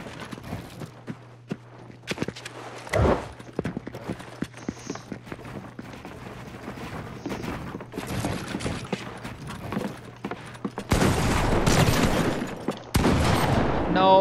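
Gunfire crackles in a shooter video game, with scattered single shots and dense bursts growing louder toward the end. Footstep-like thuds and game effects are mixed in.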